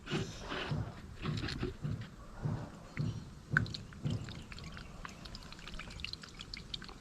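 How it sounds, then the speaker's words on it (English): Paint for a Ford Mondeo Estate rear bumper being mixed in a lidded container, with a soft, rhythmic sloshing and swishing repeated about every half second, fairly quiet and fading toward the end. "And then we want to give it a mix. Make sure they've got the lid on."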